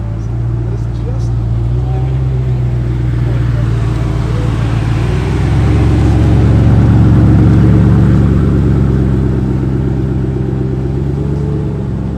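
A Koenigsegg Regera supercar drives up, its deep engine rumble swelling louder and closer in the middle before easing slightly, over a constant low background drone.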